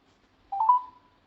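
A Samsung Galaxy A12 loudspeaker sounds a single short dialing tone, a clear steady beep of about half a second that stands alone against silence.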